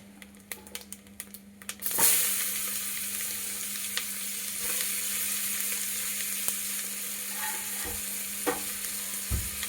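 Spices for mushroom biryani dropped into hot melted butter, crackling at first and then bursting into a loud, steady close sizzle that continues with occasional pops and stir clicks.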